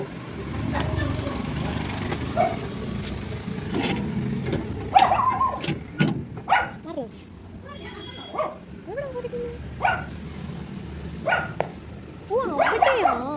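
A dog barks in short scattered bursts at a distance, over a quiet background with occasional other noises.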